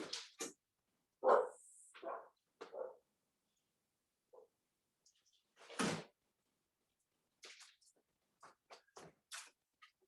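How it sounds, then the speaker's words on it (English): A dog barks indoors in a home, a few sharp separate barks with quiet gaps between them, fairly close. "let me get the dog"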